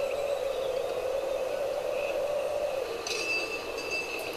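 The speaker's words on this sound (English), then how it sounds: "29-year-old electric train." A 29-year-old electric train runs in the Railroad Tycoon 3 game, with a steady, even mechanical hum and whine and faint metallic chimes near the end.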